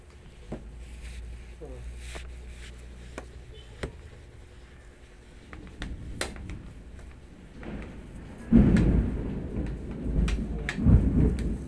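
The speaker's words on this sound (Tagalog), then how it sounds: "Rinig nyo yan guys, ang lakas ng kulog." Deep thunder rumbles and builds to a loud crashing roll near the end, with rain pattering and scattered clicks throughout.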